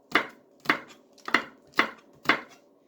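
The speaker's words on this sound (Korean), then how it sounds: "마늘하고 대파 정도. 송송 썰어주세요." A knife chops garlic and green onion on a cutting board in five evenly spaced, crisp knocks about half a second apart, close and clear in a quiet kitchen.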